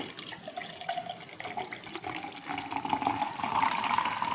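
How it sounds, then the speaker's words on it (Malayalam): Blended Rasna juice poured from a blender jar into a large glass, a steady liquid pour with a gentle rising gurgle that grows slightly louder toward the end, heard up close with no talking. "ഇതിനെ ഒന്ന് ഗ്ലാസ്സിലോട്ടൊന്ന് ഒഴിക്കാം"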